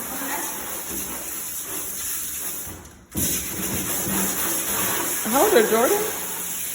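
A water sprayer rinses Missy the dog during a bath, a steady close hiss of spraying water that briefly cuts out and resumes, while people talk over it.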